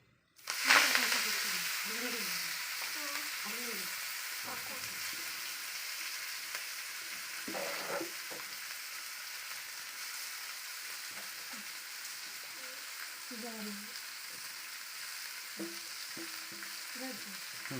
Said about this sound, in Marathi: आता ही मोहरीची भाजी तिच्यामध्ये टाकते